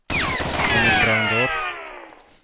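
Gunfire in a competitive shooter video game: a sharp shot at the start followed by ringing, layered tonal game effects that fade out over about two seconds, with no talk.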